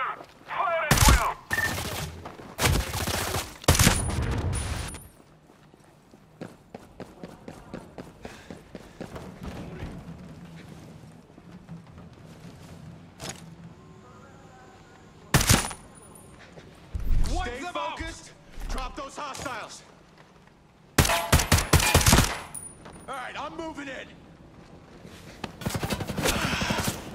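Gunfire in the video game Ghost Recon Breakpoint, loud bursts of rapid automatic shots in clusters separated by quieter stretches, with short voice callouts between the volleys.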